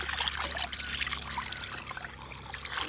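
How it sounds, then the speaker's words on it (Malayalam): Pearl spot fish (karimeen) washed one by one under water make a continuous close splashing and trickling, with uneven gurgles and drips as the water pours over them. "നമ്മളെ കരിമീനിനെ ഓരോന്നായി ഇങ്ങനെ കഴുകി വൃത്തിയാക്കി എടുക്കണം."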